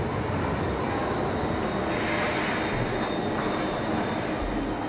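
Cologne Stadtbahn light rail train at the underground Ebertplatz station, a loud continuous rolling roar and rumble of cars running close by throughout.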